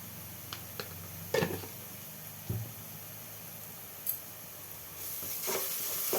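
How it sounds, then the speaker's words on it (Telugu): Ginger garlic paste frying in a pan with turmeric for a Telangana-style potato egg curry, giving a continuous close hiss and sizzle with a few brief crackling pops. "ఈ పచ్చివాసన పోయే వరకు వేయించుకోవాలి."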